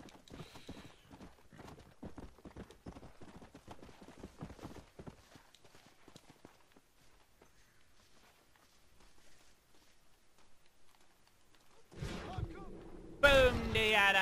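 Horse hooves clip-clop in the video game Red Dead Redemption, a steady run of close, fairly quiet hoofbeats that slows and fades, then gives way to louder game sounds at the end.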